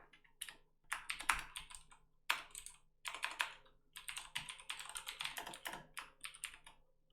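Rapid clattering keystrokes on a computer keyboard while JavaScript code is typed, arriving in irregular bursts with brief pauses, close and quiet with no talking.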